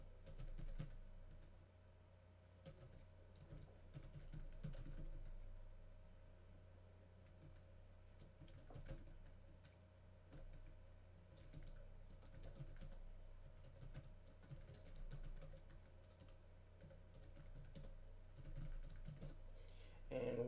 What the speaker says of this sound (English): For now, I'm going to go ahead and type in values.